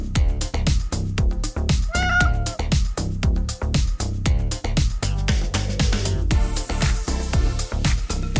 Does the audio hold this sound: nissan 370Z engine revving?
no